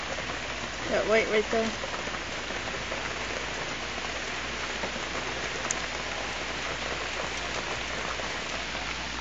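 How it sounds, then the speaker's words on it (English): Heavy rain pours down steadily during a tornado warning, a dense continuous hiss close by, with a brief spoken voice near the start. "See up there, all that rain coming down?"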